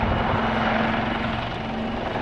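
A helicopter flies close by, its rotor throb and engine roar forming a loud, steady, dense wash with no pauses or talk.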